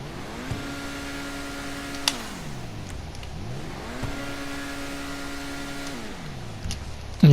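In GTA Online, the Overflod Tyrant hypercar's turbocharged engine revs up twice, each time climbing to a held whine and then falling back, with small turbo blips and pops between the pulls and no voices.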